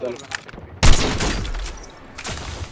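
Sniper gunfire in a video game, one sharp loud shot with a long fading tail, preceded by quieter game sounds and faint talk.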